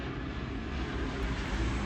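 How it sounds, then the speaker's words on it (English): An airplane flies overhead with a loud, steady broadband engine roar that holds throughout, close and dominant with no talk. "That's a plane."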